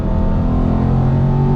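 Aston Martin V8 Vantage GT4 race car engine droning loudly and steadily on a wet track, a sustained close-up roar with a constant pitch and no talk over it.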